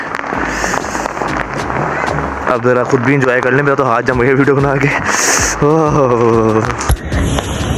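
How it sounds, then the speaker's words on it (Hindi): New Year fireworks, the last few of the night, go off with a couple of sharp bursts and crackles, mostly buried under close, loud conversation that continues throughout. "आतिशबाजी ऑलमोस्ट खत्म मुकम्मल हो ही गई है, बस आखिरी जिनके जो 2-3 रह गए हैं वो बज रहे हैं"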